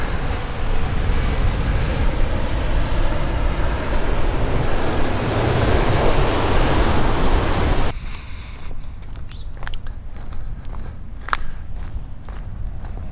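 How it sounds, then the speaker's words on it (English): Wild surf roars at a beach on Molokai's west side, a loud, continuous rush of breaking water that cuts abruptly to quieter wind and scattered crunching footsteps. "the view of this beautiful beach, and these guys are coming up. Maybe they had enough of this wild"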